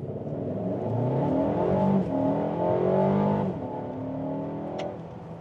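A Mercedes compact SUV with a 224 PS engine pulls away hard from a standstill, its engine note climbing steadily through the gears in a loud, close, continuous roar with brief shift dips.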